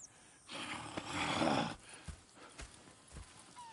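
Horses in the video game Red Dead Redemption 2, a breathy snort or whinny swelling then fading, followed by scattered hoof clops and soft movement at moderate distance, with no talk.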